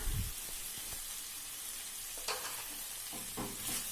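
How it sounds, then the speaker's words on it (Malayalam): Spices with turmeric and garam masala sizzle in a frying pan for a mushroom dish, under a steady hiss with several scraping stirs of a spoon against the pan. "എന്നിട്ട് അത് ചേർത്ത് നന്നായിട്ടൊന്ന് ഇളക്കി കൊടുക്കുക."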